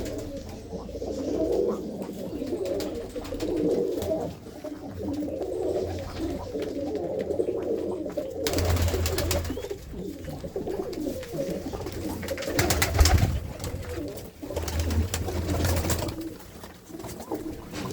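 Pigeons cooing in a loft, soft repeated throaty coos overlapping one another with some louder bursts partway through, steady low background and no talk.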